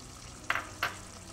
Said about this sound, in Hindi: सबसे पहले मैं इसमें तली हुई प्याज मिला दूंगी